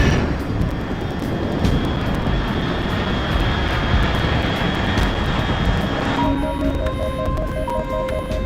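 Aircraft in the video game Metal Gear Solid Delta: Snake Eater: a loud, continuous jet-engine roar and hum fills the whole stretch, steady throughout, with faint electronic tones entering near the end.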